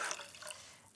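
Water poured into a pot of sushi rice, a soft liquid trickle and dripping splash that fades over a second, quiet and close, with no talking.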